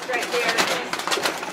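A racing pigeon coos in a loft, soft throaty calls repeating close by with faint rustling between them.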